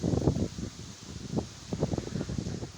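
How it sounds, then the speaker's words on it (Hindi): Strong wind blowing outdoors, a steady rushing roar with buffeting gusts against the microphone, loud and continuous with no voices. "बहुत तेज़ी से चल रही है, आप सुन सकते हैं"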